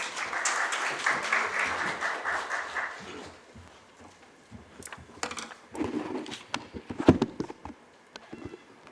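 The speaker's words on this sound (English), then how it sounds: "Please give a warm round of applause." An audience at a social innovation conference gives a short burst of applause that fades after about three seconds, followed by scattered footsteps and shuffling in the room.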